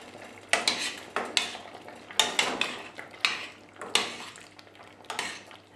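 A spoon stirring cornstarch slurry into spicy beef stew in a pot, with about a dozen distinct scraping, clacking strokes in an uneven rhythm, close and fairly loud, over a faint low hum and no talking.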